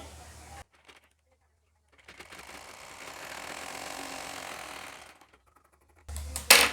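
A sewing machine runs one straight half-inch seam on a lined blouse, a single steady burst of stitching a few seconds long, close by, framed by short silences and a louder clatter at the end.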